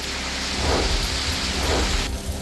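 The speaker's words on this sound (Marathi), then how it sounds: "रायगड जिल्ह्यामधील रोहा, नागोठणे आणि वाकण परिसरात जोरदार पाऊस" Heavy rain in the Roha, Nagothane and Wakan area of Raigad district roars steadily while deep thunder rumbles low underneath, loud and continuous with no voices.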